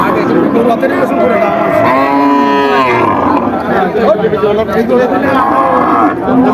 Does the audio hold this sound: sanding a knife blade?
no